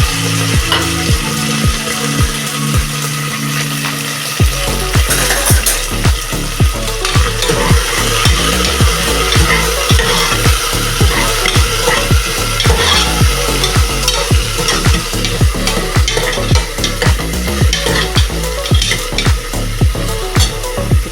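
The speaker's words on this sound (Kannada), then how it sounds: "ಪುದೀನ ಕೊತ್ತಂಬರಿ ಸ್ವಲ್ಪ ಹೆಚ್ಚಿಕೊಂಡು ಇಟ್ಕೊಂಡಿದ್ದೆ, ಅದನ್ನು ಹುರ್ಕೊಳಕ್ಕೆ ಹಾಕೋತಾ ಇದ್ದೀನಿ." Loud, steady sizzling of chopped mint and coriander frying in a pan, with repeated scraping and stirring strokes throughout after a brief quieter start.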